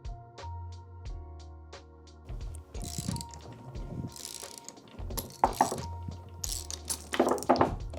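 A bearing puller being fitted to pull a bearing from a Honda B series transmission, with faint rhythmic ratcheting clicks and then louder metallic clanks and scrapes close by, and no talk.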